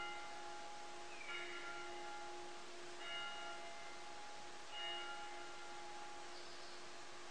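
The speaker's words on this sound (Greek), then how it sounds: "Τελείωσε η καμπάνα" A church bell tolls at a distance, a few faint, evenly spaced strikes with long fading hum over a steady background drone, no voices.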